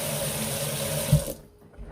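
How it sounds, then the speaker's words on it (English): Water pouring from a container into a pot of curry chicken on the stove, a close, steady splashing stream for just over a second before cutting off, with no talk. "I'm gonna add a small portion of water."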